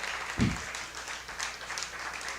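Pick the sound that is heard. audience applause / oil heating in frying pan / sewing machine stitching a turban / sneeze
audience applause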